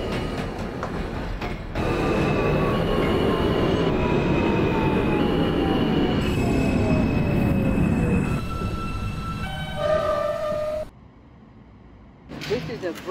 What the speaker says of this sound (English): This is a Brooklyn-bound M local train.